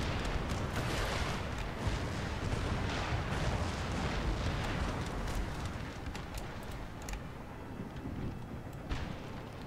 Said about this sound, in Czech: Tady už se hezky střílí